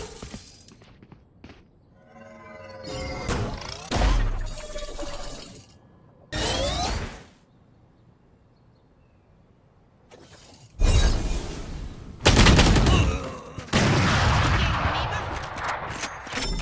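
Valorant gunfire and game effects, sharp shots, shattering bursts and loud blasts in separate bursts with quiet gaps between them, plus short game voice lines.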